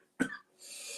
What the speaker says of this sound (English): stop coughing at people